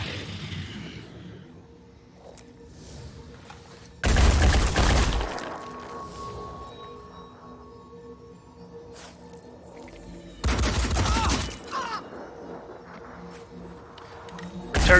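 Two loud, dense bursts of gunfire from the turn-based strategy game Phoenix Point cut through a quiet background of game ambience and faint tones, each lasting about a second, with no speech.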